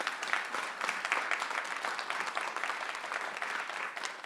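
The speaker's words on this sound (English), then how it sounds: "Could we have a big round of applause for all of our poets here and online," A spoken word poetry event audience applauds its poets with steady, dense clapping that holds at an even level throughout, with no talk over it.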